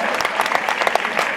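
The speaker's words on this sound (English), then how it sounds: "Can we get another round of applause for Team Bravo Viva?" Brief burst of crowd clapping for a performing team at a competition show, quick individual claps blending into a short, lively round of applause.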